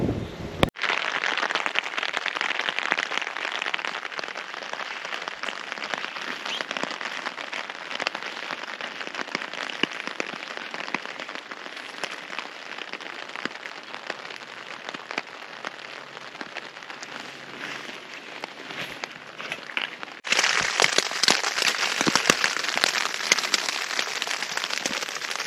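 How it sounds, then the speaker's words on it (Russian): Fairly heavy but not torrential rain falling steadily on a tent and lakeside rocks while camping in the Ladoga skerries of Karelia, a dense, continuous hiss close by that swells slightly louder near the end. "Ну, 2 часа идет дождик. Такой не ливень, но довольно сильный."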